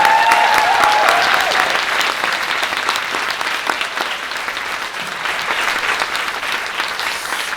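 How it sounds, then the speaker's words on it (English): A crowd at a youth council session claps in loud, sustained, even applause that continues throughout. "That needs another round of applause."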